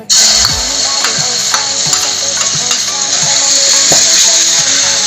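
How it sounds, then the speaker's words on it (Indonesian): Ground spice paste sizzles and fries loudly in hot oil for chicken feet soup, with a spatula stirring and scraping against the pan at a steady pace. "Langsung aja kita tumis bumbu halusnya ya."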